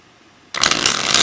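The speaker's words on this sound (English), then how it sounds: "Let's give these guys a good few little shuffles here." Tarot cards being shuffled by hand: a quiet pause, then a sudden close, crisp burst of riffling card noise that continues and builds to the end.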